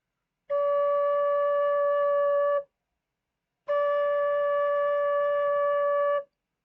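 Two long, steady notes Mi on a Thai khlui phiang o bamboo flute, each held about two seconds with a short pause between, pure and close.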